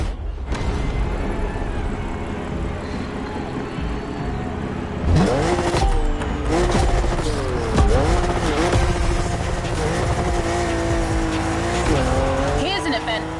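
A BMW M4 drifts in the racing game The Crew Motorfest, its engine droning steadily before tires start squealing and skidding through slides, loud and continuous, with a voice talking over the action.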